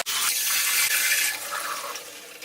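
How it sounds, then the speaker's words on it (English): Water runs steadily from a tap as soap is rinsed out of a wig, a continuous broadband rushing close by that eases slightly toward the end, with no talking. "I used a lot of soap, so I need a lot of rinsing."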